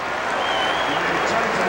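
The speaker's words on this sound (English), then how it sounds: "That should draw some applause" Basketball arena crowd at an NBA game between the Bulls and Nets applauds in a steady, dense wash of clapping and cheering, with a sports announcer talking over it throughout.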